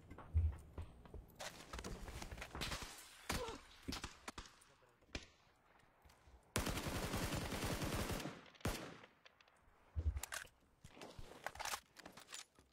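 Gunfire in a multiplayer shooter video game, with bursts of rapid shots and single cracks that come and go among other game noises, ending in a loud, sustained volley.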